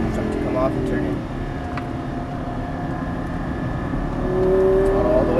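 Lamborghini Gallardo LP550-2 engine droning steadily on a race track, rising in pitch as the throttle opens toward the end, with a voice talking over it.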